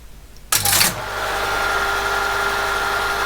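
An ASR33 Teletype switched on: a loud clunk as it powers up, then a steady mechanical hum and whir of the running motor and punch mechanism, continuous and close.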